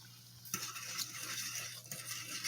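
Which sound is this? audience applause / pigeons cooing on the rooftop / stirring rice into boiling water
stirring rice into boiling water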